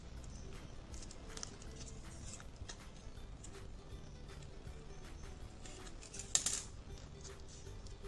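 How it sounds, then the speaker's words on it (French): Scissors are run along a paper fold by hand for a craft project, making a faint, steady scraping with soft repeated ticks close by and one slightly louder scrape near the end, with no talking. "nous allons simplement passer la paire de ciseaux sur le pli"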